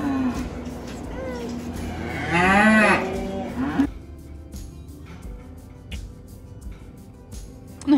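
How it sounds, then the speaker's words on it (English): Several mini cows moo loudly and close by as a herd is gathered on a farm, one long bellowing call standing out over a steady low background, with scattered shorter lowing calls around it. "We got all the cows here."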